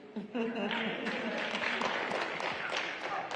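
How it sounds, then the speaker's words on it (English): Audience applause at a civil rights roundtable panel at the 2022 Essence Festival, a steady dense wash of clapping that holds throughout with voices and cheers mixed in. "give all these wonderful, phenomenal women a round of applause"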